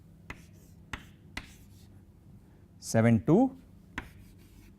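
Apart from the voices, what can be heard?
writing out a permutation by hand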